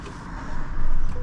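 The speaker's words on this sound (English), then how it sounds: "Starts up really nice. We got the V8 engine." A 2025 GMC Sierra 1500 SLT pickup's V8 engine cranks and fires up, a close, heavy low rumble that swells louder and settles into a steady idle within about a second.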